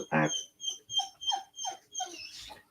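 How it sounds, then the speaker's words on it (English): A dog whimpers in a close series of about six high, thin whines with short pauses between them, after a brief lower vocal sound at the start. "It's my dog."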